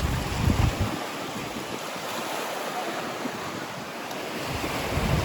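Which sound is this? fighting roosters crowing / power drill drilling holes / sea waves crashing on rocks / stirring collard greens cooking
sea waves crashing on rocks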